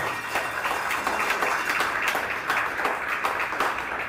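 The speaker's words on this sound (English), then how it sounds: "we all owe the whole field, this whole last two games, a big round of applause" Steady, dense clapping from a large crowd at a curling mixed doubles national final, continuous and fairly loud throughout with no pauses.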